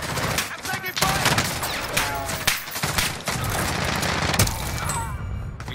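Rapid gunfire from the Call of Duty Warzone video game crackles in a continuous, loud barrage of overlapping shots and bursts, with occasional sharper cracks standing out.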